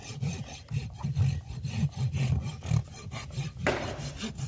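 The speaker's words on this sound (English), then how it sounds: "I turn the rasp over to the smaller teeth." Rasp with fine teeth filing a horse's bare hoof during a barefoot trim, steady rough scraping strokes in a rhythmic back-and-forth pattern, close and continuous, with no talk.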